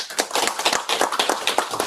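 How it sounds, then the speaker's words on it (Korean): Brief burst of audience clapping at a Yeosu culture and arts forum, a close, even patter of many hands lasting about two seconds with no voices over it. "큰 박수 부탁드립니다."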